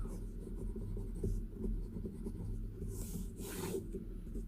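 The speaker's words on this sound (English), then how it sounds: "the pen is in Arco bronze celluloid. And this is a 18K Magic Flex nib." An 18K Magic Flex nib on an Arco bronze celluloid Armando Simoni Club Bologna fountain pen scratches across paper in close, steady strokes, with a couple of louder swishing passes near the end.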